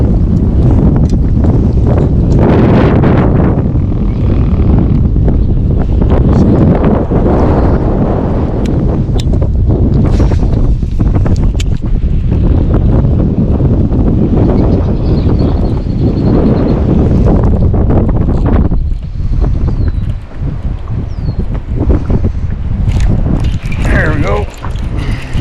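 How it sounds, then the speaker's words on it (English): Strong wind buffets the microphone outdoors on the water while fishing, a loud, continuous roaring rumble with gusty surges that persists throughout. "This wind is crazy."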